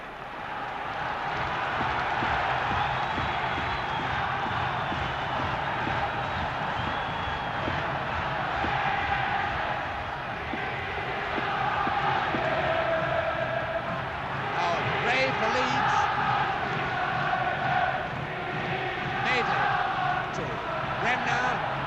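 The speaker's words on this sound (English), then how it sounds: "Celtic crowd are really giving Leeds some hammer. Tremendous to hear them behind their team like this." Celtic supporters roar throughout a 1970 European Cup semi-final against Leeds, a dense, steady stadium crowd noise with rising swells of cheering, under continuous commentary.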